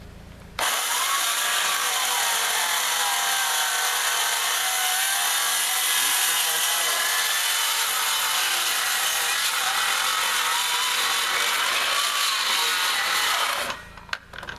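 Loud, steady chainsaw roar as the saw bites through a live-edge wood slab being squared up, sustained for most of the time before cutting off near the end, with no talk.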